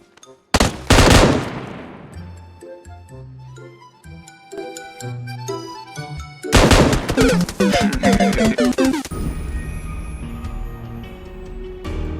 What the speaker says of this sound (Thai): ยิงไปสามตัวนี่ยิงบอดล้วนๆเลยครับ